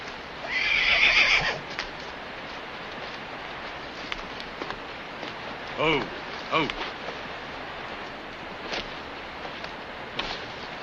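A loud horse whinny rings out early in a Western film, followed by softer snorts and a few scattered hoof clops with faint background noise.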